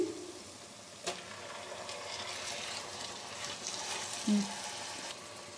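Chopped tomato dropped into golden brown onions frying in a pan for an egg spinach curry, giving a steady low sizzle with a couple of soft splashy thumps as the pieces land, heard close with no talk.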